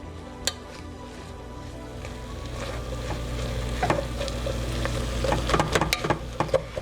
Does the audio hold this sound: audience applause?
no